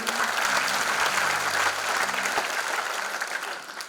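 Audience at a gospel concert applauding and cheering, a dense, steady wash of clapping that stays loud throughout before easing slightly at the end.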